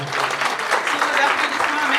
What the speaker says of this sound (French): Merci les femmes, applaudissez-vous.